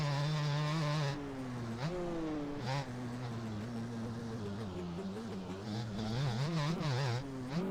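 A simulated two-stroke dirt bike engine in the motocross game MX Bikes, held wide open, buzzing loud and close with a high, raspy whine that rises and dips as the bike shifts and lands, running nearly unbroken throughout.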